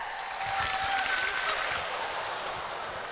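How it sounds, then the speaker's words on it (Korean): Audience applause at a university admissions lecture in a hall, a steady wash of clapping at moderate level that swells slightly and then holds on without any voices. "큰 박수 부탁드리겠습니다."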